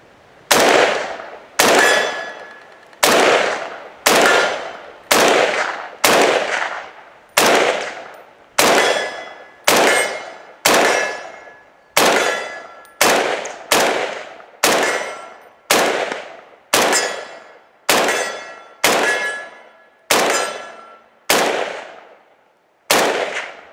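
A FEG AMD-65 rifle firing 7.62x39 rounds, about eighteen loud close shots at a steady, unhurried pace, each crack ringing with a metallic clang and a short decay.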